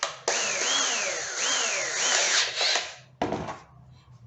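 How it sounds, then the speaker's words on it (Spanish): A power drill bores a hole with a drill bit while building a corner shelf, its motor whining loud and close with rising and falling pitch, then cutting off briefly before a second short burst. "Voy a hacer el hoyo para la siguiente, que aquí no lo tengo. Con una broca."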